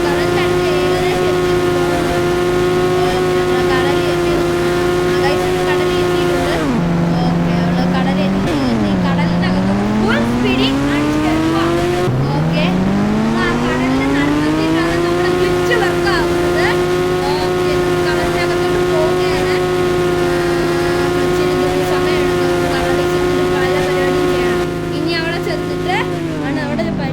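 Engine of a car in the Indian Bikes Driving 3D video game roaring loud and steady at full speed toward the sea, its synthetic tone dipping and climbing through speed changes across the whole stretch.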